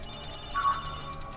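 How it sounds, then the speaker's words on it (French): A short electronic ringtone from a phone call in LEGO Marvel's Avengers, a single bright chirping tone over soft game background, heard alone without talk. "donc Coulson veut nous avoir au téléphone"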